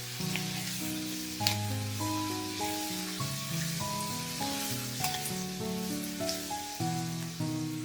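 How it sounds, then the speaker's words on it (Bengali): Onions fry in oil in a pan with a steady hissing sizzle, fairly soft and continuous, while melodic background music plays over it. "পেঁয়াজটা একটু ভেজে ভাজাবো।"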